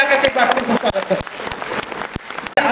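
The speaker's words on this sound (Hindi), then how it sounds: "तो एक बार फिर से अपने राष्ट्रीय अध्यक्ष जी के लिए जोरदार ताली बजा करके स्वागत करें।" An audience in a Lucknow auditorium claps loudly to welcome the national president during a national executive committee meeting. Dense applause runs throughout with sharp individual claps, and a voice speaks over it.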